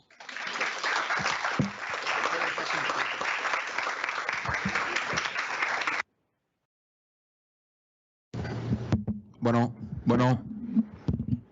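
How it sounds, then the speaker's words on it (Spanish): An audience claps at a conference on mediation for a culture of peace, a sustained patter lasting several seconds, then silence, followed by someone talking with bursts of noise. "Pues un aplauso, ¿no?"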